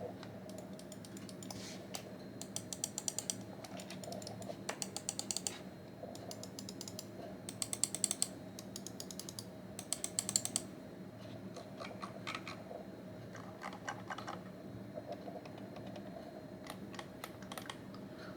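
Clicking from a Logitech G Pro Wireless and a Razer Deathadder V2X gaming mouse, with quick bursts of crisp, close clicks in clusters and a soft background hum between them, no speech.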